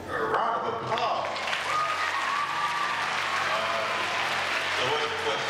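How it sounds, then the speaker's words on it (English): Steady applause from a school audience fills the room, dense and continuous from start to finish, with a voice briefly heard over the clapping. "A round of applause."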